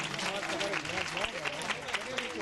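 An audience applauds at a ceremony in Bhavnagar where children from a welfare home are given for adoption, and a collector hands over the child. The clapping is a dense, moderate patter under a speaking voice that carries through it.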